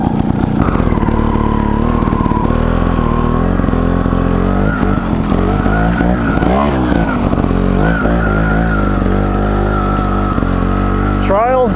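Gas Gas TXT trials motorcycle engine running close and loud throughout, idling and blipping with rising and falling revs, with voices talking over it.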